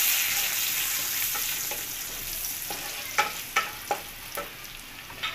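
Bay leaves, a cinnamon stick and cardamom pods fry in a pan with onion for prawn malai curry, a steady close sizzle joined near the end by a few sharp stirring clinks.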